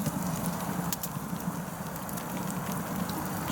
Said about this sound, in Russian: Сейчас я еще подкину дровишек